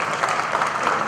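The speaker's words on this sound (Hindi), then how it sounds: "जोरदार तालियों से" Loud, dense applause from a seated audience at a stage drama performance during a festival, steady and continuous with no gaps, and no voices over it.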